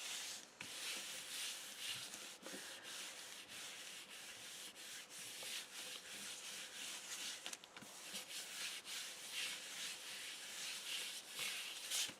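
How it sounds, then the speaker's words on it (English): Paper being rubbed by hand onto a gel printing plate, a steady dry scratchy friction with quick repeated strokes running continuously and close up, no voices. "I don't know if it takes a little bit more rubbing or not."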